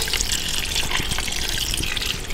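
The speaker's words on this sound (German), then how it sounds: "Geben da schon mal so ein 1/4 Liter Wasser mit dazu." Roughly a quarter liter of water poured into a Dutch oven over a bed of sauerkraut, a steady close trickle and splash running without pause and with no talk.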